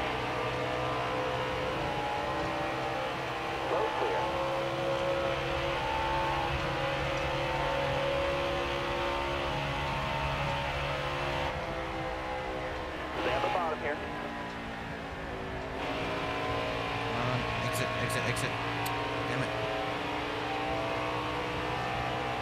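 A NASCAR Heat 4 race car engine drones steadily with a droning whine, swelling briefly as it revs under a voice talking over it.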